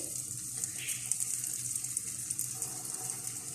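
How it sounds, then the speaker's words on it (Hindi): Spoonfuls of mash or moong dal bhalla batter sizzle in hot oil in a kadai over a medium flame, giving a steady hissing crackle that runs throughout. "कढ़ाई में मैंने ऑयल रखा है गरम होने के लिए। तो हम इस तरीके से स्पून के साथ भल्ले डालते जाएंगे।"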